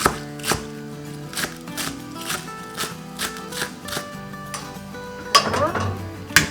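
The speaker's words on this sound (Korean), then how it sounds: "너무 곱게 안 다지셔도 돼요. 향은 쫑쫑 썰어주시면 되고요." Knife chopping vegetables on a board for a pumpkin-leaf wrap dish, a steady run of sharp, close taps with a louder clattering burst near the end.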